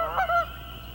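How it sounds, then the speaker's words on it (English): A couple of short, nasal Canada goose honks sound at a moderate distance on a pond, over a quiet, steady background. "Now you're going to hear in the background, I'm sure, Canada geese."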